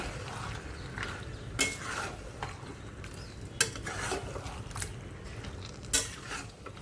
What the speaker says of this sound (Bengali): ব্যাস ভালো করে মিশিয়ে দিলাম মশলাটার সঙ্গে, এবার কষতে থাকুক